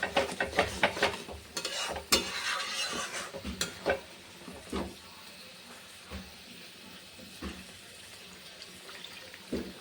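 Chili chicken sauce being stirred in a pan with a spoon, giving repeated scraping and clanking strokes that are loudest early and ease off later, over a soft sizzle of frying.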